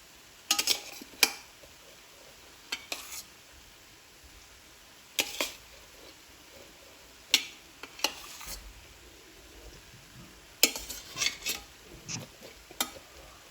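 Cooked rice is spooned into a pan over low heat, heard as a series of sparse, sharp clinks and scrapes of a utensil against the pan, separated by quiet gaps, with no talking.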